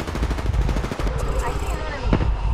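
Rapid automatic gunfire in Apex Legends crackles in quick, close bursts for about a second, then gives way to scattered impacts and softer shots.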